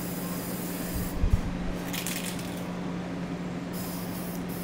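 Two short hissing bursts of golden spray paint from an aerosol can onto an old table, separated by a pause, over a faint steady hum.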